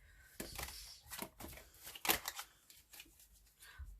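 Tarot cards shuffled by hand in a quiet room, a series of short riffling and flicking bursts at a steady close distance, with one sharper snap near the middle.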